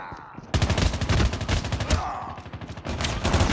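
Rapid automatic gunfire rattles in the mobile video game Call of Duty Mobile, breaking out suddenly and continuing in loud, rhythmic bursts with brief pauses.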